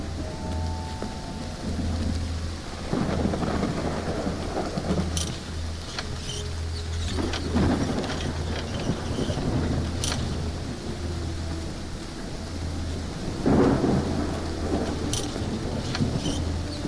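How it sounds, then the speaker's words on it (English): Steady heavy rain with rolling thunder and a few sharp cracks, a low rumble running underneath throughout. "It's raining cats and dogs here."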